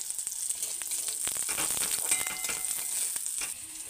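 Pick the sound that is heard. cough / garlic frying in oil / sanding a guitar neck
garlic frying in oil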